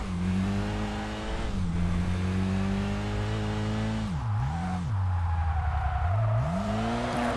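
A Subaru Impreza GC8 in Kaido Racer 2 revs hard and steady, with a few quick dips and rises as gears shift, the engine drone loud and continuous throughout.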